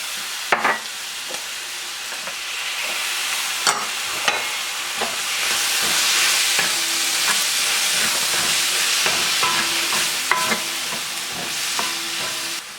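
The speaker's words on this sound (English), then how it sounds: "then I'm going to add the tomatoes" Tomatoes hit a hot pan for spiced red lentil dal, sizzling loudly and steadily while a spoon scrapes and stirs with intermittent clacks against the pan.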